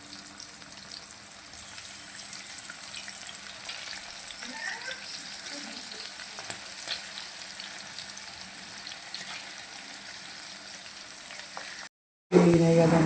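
Sweet corn fries in hot oil with a steady, dense sizzle and crackle that holds evenly for about twelve seconds, then cuts out briefly before a louder burst.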